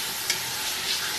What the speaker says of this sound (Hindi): बस एकदम अंदर डालिए दही और इसको स्टर करिए